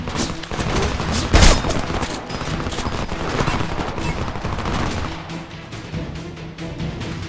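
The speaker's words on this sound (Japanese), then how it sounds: "こっちが撃たれてるぞ。 攻撃されてる。" Loud, sustained automatic gunfire from the video game Homefront, with overlapping machine-gun bursts and heavy booming shots in a constant barrage and one especially strong blast early on. No speech.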